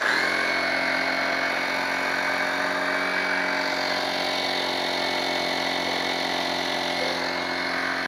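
A car tyre inflator runs steadily, a loud continuous buzzing motor hum with a high whine, starting abruptly and holding constant throughout with no talking.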